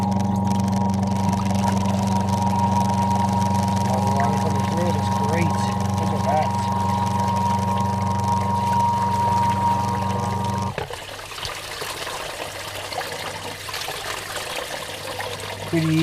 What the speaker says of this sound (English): Pump just kicked in.